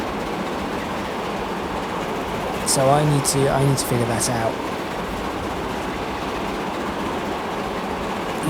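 A Pullman express train in Transport Fever 2 runs with a steady rumble and rail clatter throughout, while someone talks briefly over it partway through.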